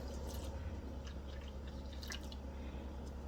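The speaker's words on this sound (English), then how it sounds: "here's where I pour my detergent" Homemade laundry detergent pours into a washing machine with a steady, close liquid splash and trickle, carrying some faint dripping over a low background hum.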